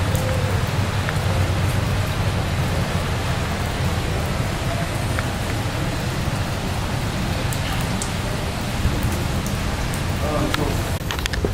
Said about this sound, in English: it is windy, it's rainy. Certainly is coming down.